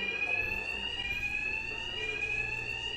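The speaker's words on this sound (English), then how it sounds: "these thugs can't hear a thing over the alarms" Alarms blare continuously in the Batman: Arkham Knight video game, a steady shrill electronic tone with layered harmonics, loud and unbroken without talk.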